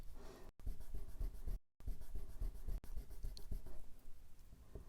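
A very soft HB pencil draws dark lines on paper, giving close, steady scratchy strokes that are interrupted by two short pauses.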